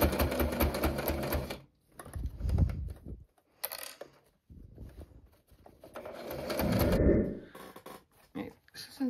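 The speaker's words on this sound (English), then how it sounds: "since we're just at my machine, I finished sewing this edge on" A home sewing machine stitching binding along the edge of a fabric bum bag, with bursts of rapid mechanical whirring broken by short pauses and quieter handling sounds, close by and loud.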